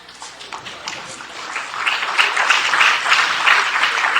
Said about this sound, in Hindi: मुमताज पठान के लिए भी तालियां बजाइए